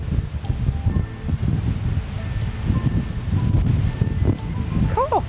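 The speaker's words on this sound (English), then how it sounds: "Where has that wind come from all of a sudden?" Strong wind gusts roar continuously and buffet close to the microphone outdoors in Spain, with brief voices partly heard under the rumble.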